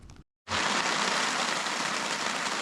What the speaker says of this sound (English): Listen to the rhythm of the falling rain